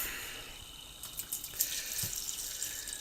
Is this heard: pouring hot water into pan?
yes